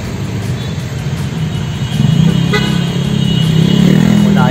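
Busy street traffic with engines rumbling steadily and a few short car horn toots sounding over the din, growing a little louder partway through.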